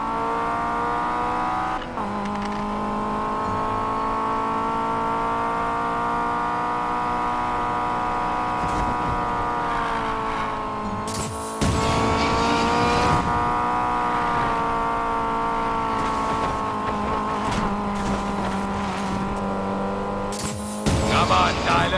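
Engine of a car accelerating and racing in Need for Speed Payback, a steady loud roar with shifting pitch that carries on throughout, with harsher bursts partway through and near the end, and speech faintly beneath.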